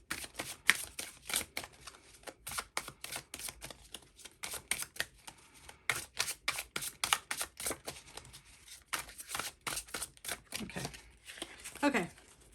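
Tarot cards riffled and shuffled in quick, crisp bursts of papery snaps, close and fairly quiet, with brief pauses between runs.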